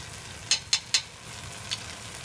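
A spoon stirs tomato purée and curry powder in a pot for chickpeas in coconut milk, three quick sharp scrapes in a row followed by one softer tap, close and clear over a faint low hum.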